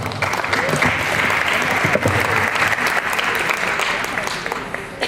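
A crowd at an MLK breakfast claps loudly and steadily, the dense applause carrying a murmur of voices beneath it before easing slightly near the end.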